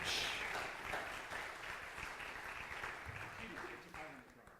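Audience at a live magic show applauding, a dense wash of clapping that starts strong and slowly fades, with faint voices underneath.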